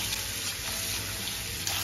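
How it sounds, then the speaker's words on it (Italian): Running tap water splashes steadily over fennel bulbs being washed in a sink, a continuous close hiss with no talking. "Stiamo lavando i nostri meravigliosi finocchi"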